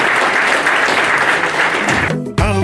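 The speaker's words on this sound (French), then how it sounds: "Sur ce, nous l'applaudissons." An audience at a colloquium panel on Dii Alfred Diban breaks into full, dense applause that runs steadily, then cuts off near the end as voices break in chanting and calling out.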